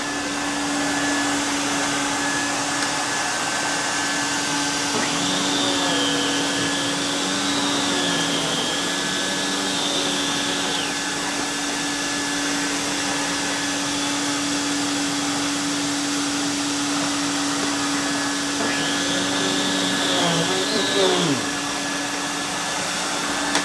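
A vacuum cleaner runs steadily on a bare floor with a constant motor drone and a strong steady hum, while people talk quietly over it at moments.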